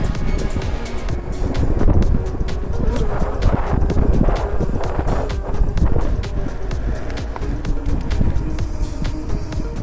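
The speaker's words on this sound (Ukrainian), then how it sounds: "вітер здуває." Strong wind rumbles and buffets loudly throughout at a forest bike park, with scattered crackles and thumps mixed into the steady roar.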